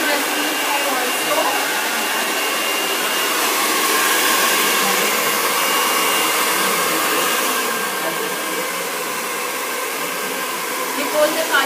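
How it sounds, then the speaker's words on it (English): A hair dryer blowing steadily while drying a client's hair in a salon, a loud continuous whooshing whine with slight swells in intensity, running alone without talk. "So I'll get somebody to start drying Rasleen's hair also."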